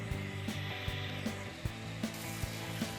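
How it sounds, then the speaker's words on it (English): Belt sander working a maple board, a steady close whining drone with a regular pulsing rhythm as the wood passes against the belt, loud and without speech. "then it was off to the belt sander for some fine tuning"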